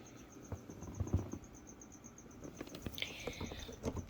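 Crickets chirping during feeding time for pet geckos, with a steady high trill running through the clip, faint rustling and tapping below it, and no talk.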